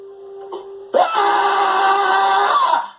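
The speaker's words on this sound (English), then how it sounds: "There's all of a sudden screaming and yelling." Men screaming and yelling in a warehouse after a gunshot, a brief low voiced cry followed by a sustained loud, harsh wailing scream held for about two seconds before cutting off.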